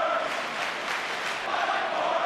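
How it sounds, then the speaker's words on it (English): An arena crowd in the WWE Mayhem wrestling video game roars continuously as a dense, even wash of cheering that swells slightly toward the end. "do you hear that crowd?"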